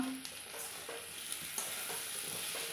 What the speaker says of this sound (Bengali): বাকি তেলটাতেই এই আলুটা মশলা দিয়ে কষিয়ে নেব